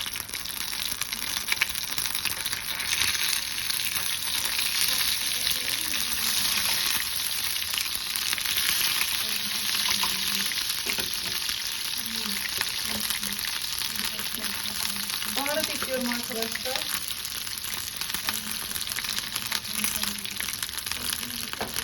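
Tomato paste and butter frying in hot oil in a home kitchen, a continuous bright sizzle that stays loud and steady throughout, with faint stirring and a brief voice murmuring underneath at times.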